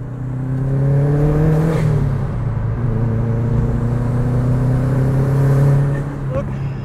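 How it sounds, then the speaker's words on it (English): Inside a new Subaru WRX on the move, the boxer engine gives a steady, low rumble with a rising and falling drone as it pulls, heard close and continuously with a brief gear change midway. "Look, I always love the boxer rumble, and it's definitely got that."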